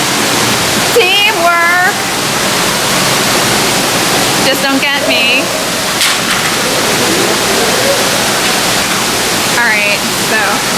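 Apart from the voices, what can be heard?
moving water at a science museum water exhibit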